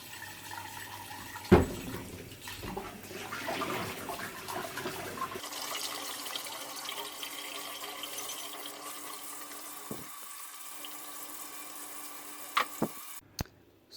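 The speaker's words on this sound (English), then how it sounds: "let's see if we can start by cleaning it in the sink" Tap water runs steadily into a sink while a vintage Swemab 1.5 liter coffee pot is washed, a continuous rushing wash with a few knocks and clinks, close by and without talk.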